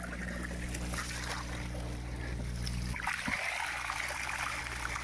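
Water drains steadily during a plumbing drain test, with a continuous rushing trickle whose tone shifts partway through. No one speaks.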